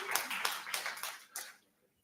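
Scattered hand claps from a small audience at a Brevard County Commission meeting, a handful of sharp irregular claps that thin out and stop after about a second and a half.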